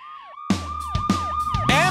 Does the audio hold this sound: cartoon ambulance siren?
yes